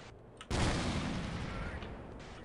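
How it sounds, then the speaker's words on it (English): A grenade blast in the video game Half-Life: one sudden loud boom after a brief lull, then a long rumbling, hissing decay that stays dense and fills the rest of the moment. "Holy shit, they threw grenades."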